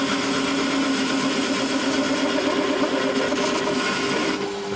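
Metal lathe taking a roughing cut on a tough steel part for a track day car, a steady dense machining roar with a faint rhythmic chatter running continuously and loud throughout.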